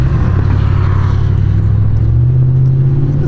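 A 1999 Ford F-150 XLT 4WD pickup's engine rumbles at close range, a deep steady low growl that swells briefly as it revs, with no talking.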